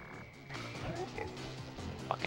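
Cartoonish frog croaks from the Sly Cooper video game, a few short croaking calls over busy game music and effects, moderately loud in the mix.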